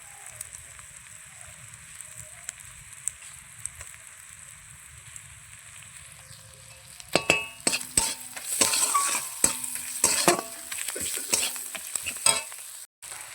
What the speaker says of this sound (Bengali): আমি এটাকে ভালো করে কষিয়ে নেব।